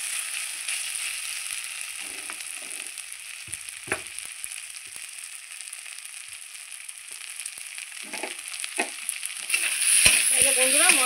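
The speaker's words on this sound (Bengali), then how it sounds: "এই যে বন্ধুরা মশলা দিয়ে 2 থেকে 3 মিনিট খুব সুন্দর করে ভেজে নিয়েছি।" Banana flower curry frying with spices in a pan, a continuous sizzle under occasional stirring scrapes, growing louder and busier toward the end.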